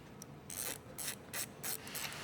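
A ratchet turning as an oil cooler adapter is threaded into a Subaru engine, four quick bursts of dense metallic clicking, close and fairly quiet, with short pauses between strokes.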